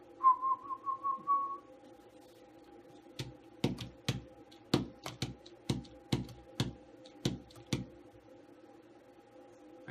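A person whistles with the lips in a short wavering trill, followed by a string of sharp clicking or tapping sounds in an uneven rhythm, close and fairly quiet.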